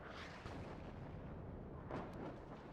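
Artillery fire booms through a WARNO battle in a low, rumbling wash, with a sharper distant blast near the end, all fairly faint and with no voices.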